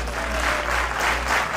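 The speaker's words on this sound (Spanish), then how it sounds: "Necesito que me ayuden con unas palmas." A concert crowd at a show clapping along in a dense, continuous wash, loud and close, with a low band rumble underneath.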